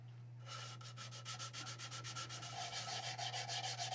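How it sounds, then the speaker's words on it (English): Rhythmic back-and-forth rasp of 240-grit sandpaper rubbing on a wooden platter rim, quick regular strokes, close up over a low steady hum. "now on to a bit of sanding"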